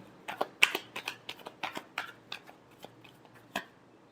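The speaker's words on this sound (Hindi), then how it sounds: "last shuffle" Tarot cards shuffled by hand in a quick series of a dozen or so crisp, papery riffles and slaps, close up and fairly quiet, with no voice.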